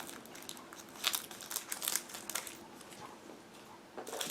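A plastic bag holding parts of an Aoshima 1/24 Subaru BRZ model kit crinkles and rustles as it is handled and opened, in a run of close, crisp bursts with no talk.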